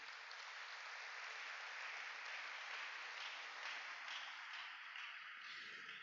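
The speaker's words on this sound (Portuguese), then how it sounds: "Quem pode dar uma salva de palmas para o Senhor?" A church congregation applauding in worship, a steady, even wash of clapping that holds at constant strength and fades slightly at the end, with no voice over it.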